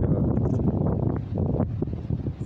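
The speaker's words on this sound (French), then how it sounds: "Désolé pour le bruit, hein, il y a le Mistral là, depuis 2-3 jours." The Mistral wind of Provence buffets a microphone with loud, continuous low rumbling and gusty flutter throughout, with no voices over it.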